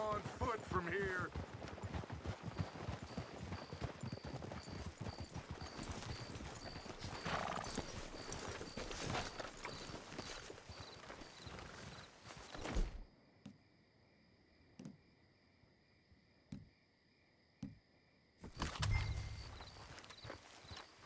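Horses in Red Dead Redemption 2 clip-clopping along with snorts and a whinny under talk, the hooves stopping midway before brief scattered sounds and a door slide.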